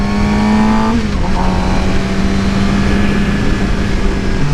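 A Suzuki GSX-R 750 sport bike engine idles steadily while warming up, with a brief blip around the first second before settling back into an even, close hum.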